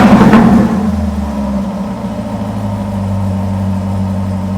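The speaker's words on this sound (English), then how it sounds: "Now I'll blip it a couple times for you guys." A Corvette V8 with a dual clutch transmission gives a quick, loud throttle blip at the start, then drops back to a low, even idle rumble that carries on alone.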